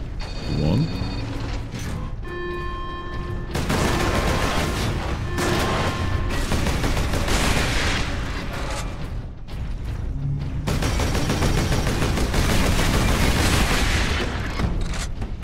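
Turret gunfire in Warhammer 40K: Space Marine, a dense, sustained barrage of bursts and booms with mechanical clatter, loud and nearly continuous across the stretch, under a brief tonal game alert near the start.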